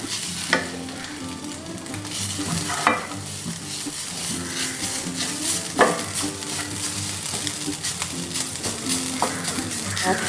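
Steady crackling sizzle of moist grated coconut frying in a pan over medium flame, with occasional scrapes of a utensil stirring, continuous and fairly close.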